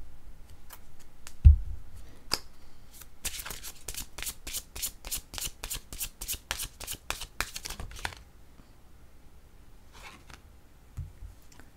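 Tarot cards riffled and shuffled by hand, a dense run of crisp flutters lasting several seconds, framed by scattered taps and card handling before and after.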